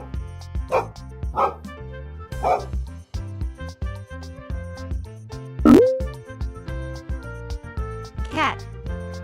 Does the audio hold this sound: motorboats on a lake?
no